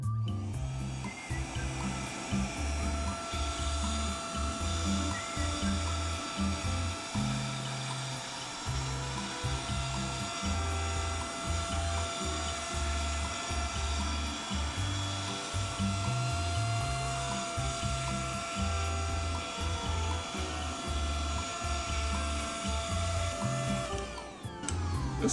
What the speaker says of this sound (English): I'm going to vacuum this and make sure I got all the dust off of it.